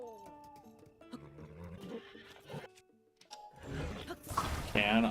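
Whinnying and snorts from a newly tamed horse in the video game Tears of the Kingdom, mixed with game music and effects, followed by a louder burst of noisy activity near the end.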